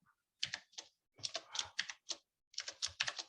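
Quiet, close clicking of keys on a computer keyboard in bursts of rapid strokes separated by short pauses, with no talk.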